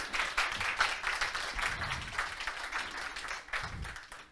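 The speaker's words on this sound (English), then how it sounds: "A round of applause" Scattered audience applause after a talk on sociotechnical systems design, moderately faint, uneven clapping continuing with slight swells and dips.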